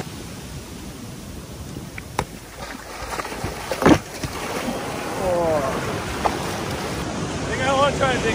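Surf breaks on a skimboarding beach with a steady wash of wave noise, one sharp crash near the middle, and a surge building toward the end.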